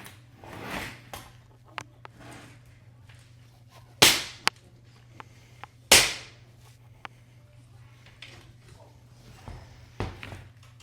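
A lightweight 3 ft tri-fold grill table is folded up, giving sharp snapping clacks and a few lighter clicks and rattles spaced over a quiet background hum.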